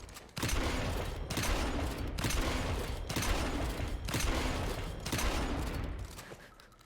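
Gunshots and ejected shells in the video game Evil West, a series of heavy booming blasts roughly a second apart, each with a long rumbling tail, moderately loud and without speech.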